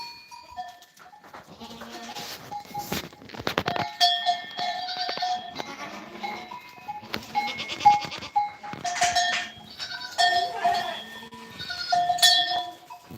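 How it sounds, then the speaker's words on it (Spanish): Goats bleat several times in shaky, wavering cries, some close and some farther off, with occasional clinks and a person talking in between. "Y ahora tengo la cabra y le tengo que marcar la oreja."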